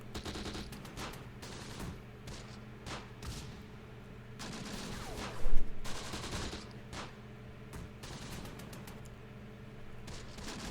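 Mortar and small-arms fire in the Close Combat war game, Italian campaign: a steady stream of sharp bursts and rattling shots over a low rumble, with one louder blast near the middle and no talking.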